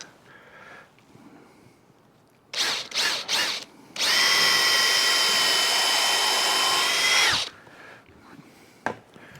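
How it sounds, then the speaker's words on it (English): A power drill bores through wood for an entrance step repair, with a few short bursts followed by a loud sustained high-pitched whine for several seconds before stopping. "I think I'll drill through as far as I can, then drop the screws in the hole and run the screws through."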